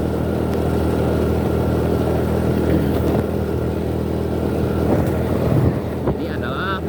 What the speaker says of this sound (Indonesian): Ini adalah mobil truk oleng warna kuning.